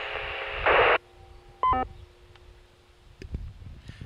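On a 2-meter portable ham radio, a push-to-talk transmission gives a brief burst of radio static and a squelch tone, followed by a short electronic beep sequence and faint room noise.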